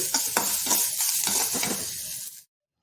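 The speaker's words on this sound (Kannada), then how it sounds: "ಇವಾಗ ತೆಂಗಿನ ತುರಿ ಹಾಕಿ ಇಳಿಸ್ತಾ ಇದ್ದೀನಿ" Ivy gourd palya with grated coconut stirred in a pan, a close scraping stir over steady sizzling for about two and a half seconds, then abrupt silence.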